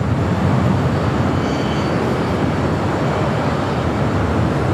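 A Philippine Airlines heavy jet rolls on runway 25 right at LAX, heard as a continuous broad roar of engine noise at a steady level throughout.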